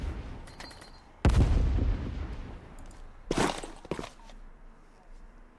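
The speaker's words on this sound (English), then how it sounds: "Opening fire!" Video game gunfire arrives as two loud close bursts of shots separated by quieter gaps, with a few fainter pops trailing after them, in an online league match.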